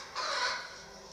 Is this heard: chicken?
yes